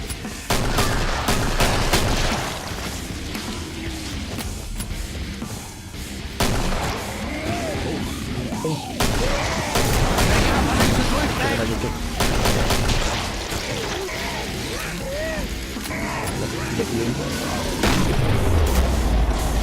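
Gunfire in the video game Killing Floor: heavy, booming shots and rapid bursts layered over loud game noise throughout, with someone talking over the action.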